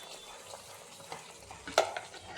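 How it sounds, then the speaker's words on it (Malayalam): Ghee stirred through a jackfruit mixture in a pan, giving soft scraping and a gentle sizzle with one sharper clink of a spoon against the pan near the end. "എന്നിട്ട് ഒന്നുകൂടി ഒന്ന് ഇളക്കി കൊടുക്കാം."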